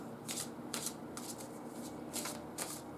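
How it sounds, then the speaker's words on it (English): Bursts of crisp riffling as a deck of tarot cards is shuffled several times, close up, with soft pauses between them. "So, I'm going to shuffle the deck a few times."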